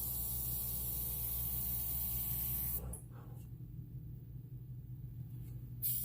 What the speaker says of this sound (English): I'm pretty much straight up and down with my airbrush, and I'm about an inch to an inch and a half behind it